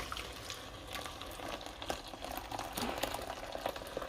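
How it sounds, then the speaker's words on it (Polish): Freshly boiled water poured into an air fryer basket for cleaning, giving a steady, close bubbling and splashing that runs throughout with small clinks and gurgles. "Woda zagotowana, to teraz możemy ją wlać o tutaj."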